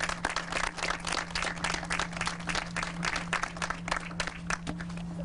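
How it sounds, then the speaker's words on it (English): A crowd at a water infrastructure funding event claps for the staff, a steady dense round of applause that carries on throughout with no talk over it. "So I'd like to have an applause for our staff."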